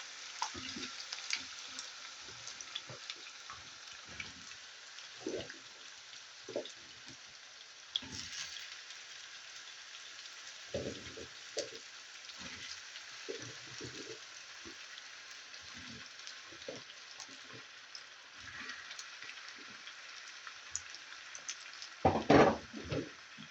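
Soft, continuous sizzling of thick-cut potatoes frying in an uncovered pan, with occasional scraping and stirring knocks, no voices.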